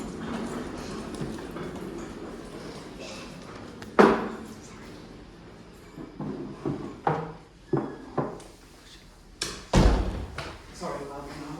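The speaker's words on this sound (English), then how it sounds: "I might just close the door." A door is pushed shut in a presentation room, a sharp thud standing out after a stretch of background chatter, followed by several further knocks and bumps as a speaker talks nearby.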